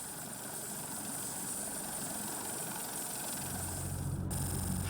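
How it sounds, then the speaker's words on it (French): A Panther reconnaissance helicopter operating from a warship during a naval exercise gives off a steady, loud rotor and turbine drone throughout, its pitch and weight shifting near the end, with no voices. "un hélicoptère de reconnaissance Panther décolle et atterrit toutes les 30 minutes"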